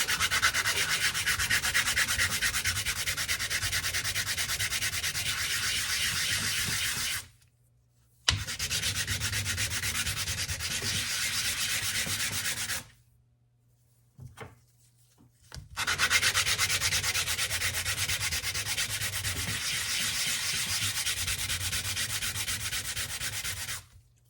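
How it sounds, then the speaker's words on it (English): Steady scratchy sanding of plastic parts in long continuous strokes, close up, broken by two short pauses; no voices. "do a little bit of sanding on these"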